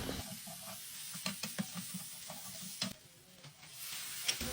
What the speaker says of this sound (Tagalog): tapos igigisa na natin itong bawang at saka yung sibuyas